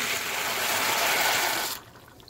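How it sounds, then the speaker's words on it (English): Water in a pot on the stove gives a steady loud hissing rush that cuts off abruptly near the end, leaving a faint quiet background. "water's boiling"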